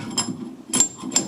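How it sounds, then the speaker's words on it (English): Three dull, evenly spaced hammer knocks close by, driving a lathe drive spur into a wooden blank over a low background hum. "A bit more hammering just to be sure."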